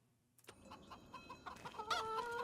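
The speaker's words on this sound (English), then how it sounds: "And we have our chickens, which already have some eggs spawning here." Chickens cluck and squawk in a farm coop in the video game Farming Simulator 25, several birds close together in quick overlapping calls.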